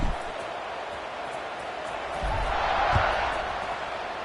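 A stadium crowd in the video game College Football 26 keeps up a steady, fairly loud roar that swells slightly toward the end, with a few thumps underneath.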